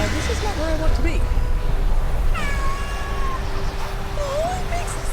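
A cat in the World of Warcraft video game gives a few drawn-out, mournful yowls and meows over steady game background noise, with a person talking throughout.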